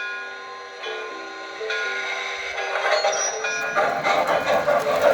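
Model trains running on a layout, with sustained whistle-like tones and rising rolling and clattering noise as they get under way.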